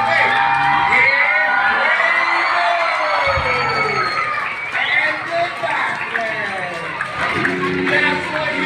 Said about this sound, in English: you whistle, clap your hands, yell, scream, on the grandstand